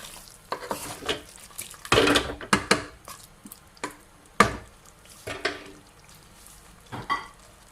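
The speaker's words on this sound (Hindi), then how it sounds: "यहाँ पर आके आपने बहुत आराम से बहुत ध्यान से इसको मिक्स करना" Chicken and capsicum curry is stirred in a pot, a spoon scraping and knocking against the metal in separate close, sharp strokes, with a soft sizzle between them. No speech.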